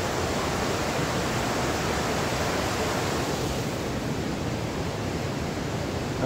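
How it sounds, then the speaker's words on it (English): John's Brook flows beneath a village covered bridge, giving a steady, dense rush of water that holds evenly for several seconds with no speech over it. "I believe that would be John's Brook."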